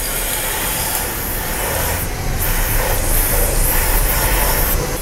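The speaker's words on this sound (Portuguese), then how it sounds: "Primeiro, nós vamos aplicar esse spray em toda a camisa aqui, ó." An aerosol lubricant is sprayed onto the honed cylinder liner of a race engine during engine preparation. It makes a loud, steady, close hiss that runs unbroken throughout, with no talk over it.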